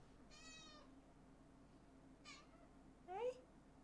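A pet cat meows straight into a streaming microphone, giving a drawn-out meow, a short chirp, then a rising louder meow, all close and clear over faint room hum.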